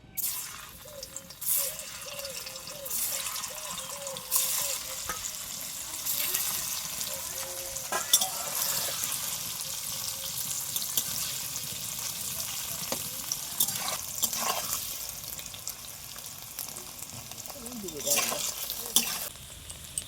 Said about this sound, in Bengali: এক এক করে পনিরগুলোকে দিয়ে ভেজে নেব।